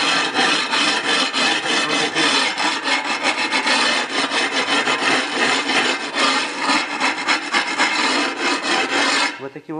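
An abrasive stone block rubbed back and forth across porcelain floor tile, a steady, loud, continuous rasping scrape with fast repeated strokes, close up and without talk.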